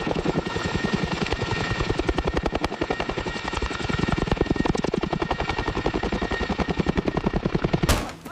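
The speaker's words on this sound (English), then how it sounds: "We are taking fire on approach." Loud, continuous helicopter rotor chop with rapid bursts of automatic machine-gun fire during a reenactment of the Son Tay helicopter raid, the gunfire cracking sharply over the steady engine throb until it cuts off abruptly at the end.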